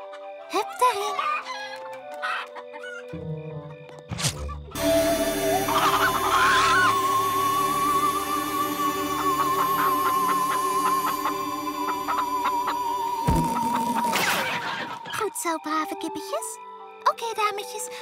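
Cartoon chickens in a My Little Pony episode cluck and squawk among other sounds, with a long sustained tone running through the middle before a burst of noise ends it.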